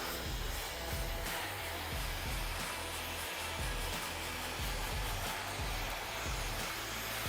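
A hair dryer without a nozzle blows steadily and loudly on the crown during a textured faux hawk haircut, a continuous rushing whoosh heard alone throughout.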